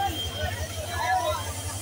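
A crowd of passengers at a station for the Mahanagar Prabhati train, returning from an urs, makes a dense murmur of voices over a low rumble, with one voice nearer than the rest.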